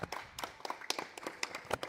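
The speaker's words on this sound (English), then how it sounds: "Round of applause for Hero Hazard." Sparse, quiet clapping from a small audience at a combat robot competition event, a handful of uneven claps spread across the moment.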